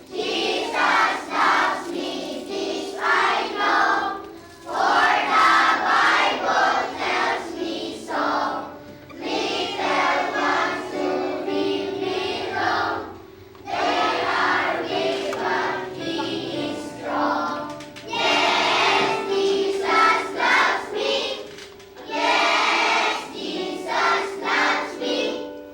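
A church congregation in the Philippines sings the hymn Jesus Loves Me together, many voices in phrased bursts with short breaths between lines, filling the room at steady volume.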